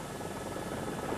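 A helicopter at the 2000 Dakar Rally gives a loud, steady, close rotor and engine roar that fills the whole brief moment without a break.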